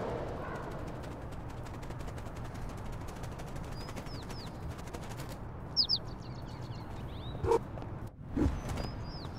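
A bird flaps its wings in the video game Little Kitty Big City: a few faint, brief fluttering bursts over a quiet, hissy background with occasional high chirps.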